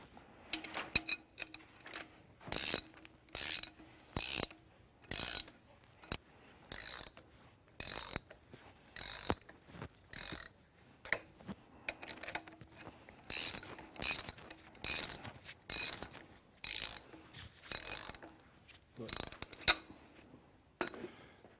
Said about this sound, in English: You will keep rotating the spool slowly and pulling the bar into the slot, going from one spool to the next